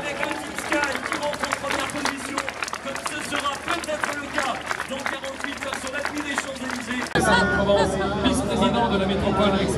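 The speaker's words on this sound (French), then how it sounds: "merci d'applaudir très chaleureusement le peloton du Tour de France avec le Team Sky" Crowd at a Tour de France stage finish in Salon-de-Provence cheers and claps steadily for the passing peloton, a dense roar of hands and voices that swells louder near the end.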